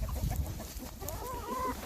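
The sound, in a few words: rooster clucking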